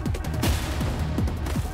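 Rapid gunfire in the robot-apocalypse shooter Generation Zero, a loud sustained burst of repeated shots with sharp periodic cracks over a busy combat background, no talking.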